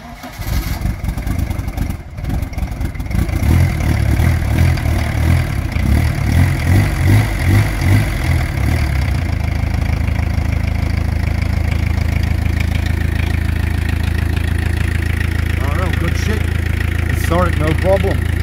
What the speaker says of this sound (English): We'll see if the car will start at all.